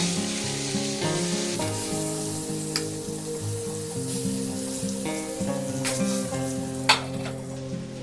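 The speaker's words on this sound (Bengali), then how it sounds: "বেগুন আর আলুটা একসাথেই ভেজে নেব।" Eggplant and potato frying together in a pan, seasoned with salt and turmeric, a steady close sizzle with faint clinks of stirring throughout, no talking.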